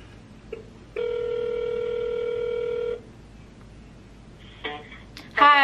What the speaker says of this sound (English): Why won't you pick up the phone?